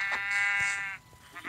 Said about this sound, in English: I need to kill that sheep.